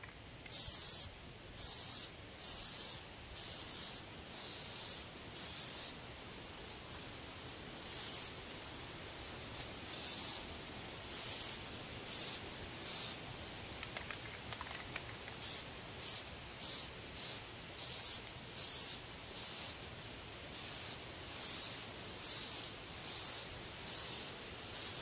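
Plasti Dip aerosol is sprayed onto Chevy Silverado truck instrument cluster trim in a light coat, a steady close hiss delivered in repeated short bursts with brief gaps between passes.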